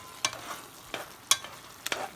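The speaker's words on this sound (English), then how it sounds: "Let me give it a stir." A spoon stirs smothered okra with sausage and shrimp in a pot, making four separate scraping strokes spaced roughly half a second apart, quiet and close, over a faint background hiss.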